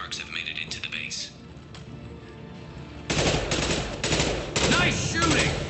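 Gunfire from the video game Mass Effect in bursts of rapid automatic shots, loud and close, starting about halfway through after a quieter stretch with faint voices and game sounds.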